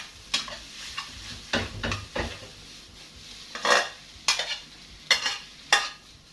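Instant noodles with carrot and chili are stir-fried in a pan, with a quiet sizzle under repeated sharp scraping and clanking strokes of the spatula; close, irregular and without speech.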